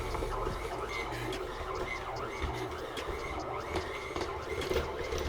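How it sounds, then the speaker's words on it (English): A KitchenAid stand mixer straining as it kneads stiff ramen dough, giving a steady, rattling mechanical drone with uneven knocks, close and continuous throughout. "it's definitely making the good old-fashioned KitchenAid mixer labor pretty"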